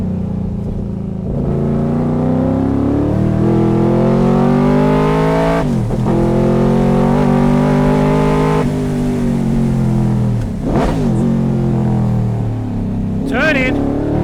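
Race car lapping a track at speed, its engine loud and close with sustained revving that climbs and drops through gear changes and corners; someone talks over the engine throughout.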